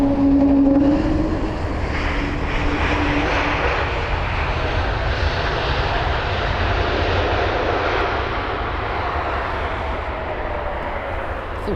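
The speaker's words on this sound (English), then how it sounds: "So we got the Swiss A320 Neo from Zurich." A Swiss Airbus A320neo from Zurich arrives at Heathrow, its engines roaring steadily and close by throughout, with a brief high whine near the start.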